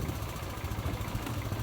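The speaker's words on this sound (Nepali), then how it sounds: "उताबाट बाइक पनि आइरहेको छ" A motorcycle engine hums at moderate distance on a dusty village road, a steady low drone that swells slightly as it draws nearer.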